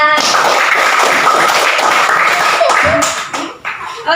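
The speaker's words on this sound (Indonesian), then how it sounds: "beri tepuk tangan untuk Gila" Classroom applause for a student named Gila after a tea-making demonstration, a short burst of loud close clapping from a small group that thins and fades near the end, with some talk mixed in.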